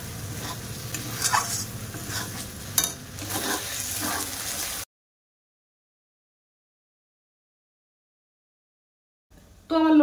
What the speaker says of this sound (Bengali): আর এই লোটে মাছটা একটু ঝাল ঝাল হলে খেতে ভালো লাগে। এই লোটে মাছটা আমি একটু ঝুড়ো ঝুড়ো মতো করবো।